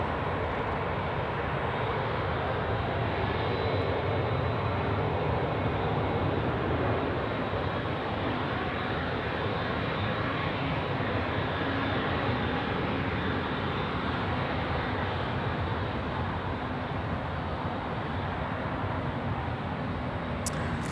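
Asiana airliner on night approach at Sydney Airport, a steady broadband jet engine roar sustained without letup, moderately loud and fairly distant, with no talk over it.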